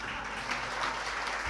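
An audience at a religious sermon claps together in a short burst of steady, dense applause that continues evenly throughout.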